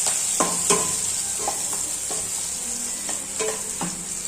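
Curry leaves and cashews sauté in a hot pan for a dry chicken dish, giving a steady close sizzle broken by about eight sharp spatula stirring scrapes.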